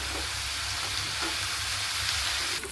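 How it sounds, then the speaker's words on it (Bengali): Onion and green chilies frying and being stirred in a pan, a steady close sizzle with scraping stir strokes throughout, no talking. "কাঁচামরিচ দিয়ে একটু নাড়াচাড়া করে দিচ্ছি"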